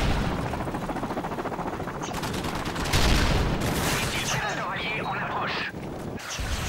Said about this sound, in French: les grenades. Les tirs.